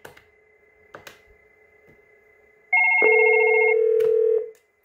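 A Fanvil X7 touchscreen office phone rings in one loud, steady electronic burst lasting under two seconds after a few quiet moments with light handling taps.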